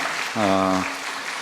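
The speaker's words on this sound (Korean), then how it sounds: "박수 한번 하겠습니다." A church congregation applauds during a Sunday worship service, steady clapping running the whole time, with a sustained pitched tone briefly rising over it in the middle.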